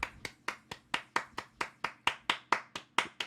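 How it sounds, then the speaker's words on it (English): A single pair of hands clapping at a steady, even pace, about a dozen sharp close claps in a row with no crowd, accompanying a call for a round of applause for game developers. "give a round of applause to the great and amazing developers that actually put out games this year"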